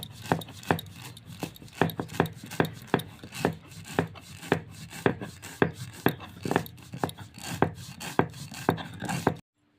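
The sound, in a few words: grinding cucumber without water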